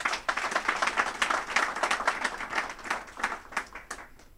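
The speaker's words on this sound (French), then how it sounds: "Je voudrais que vous l'accueilliez par vos applaudissements pour l'encourager." Audience applause at a French-language handover ceremony welcoming a new director, steady dense clapping from a crowd that holds throughout at moderate loudness, with no speech over it.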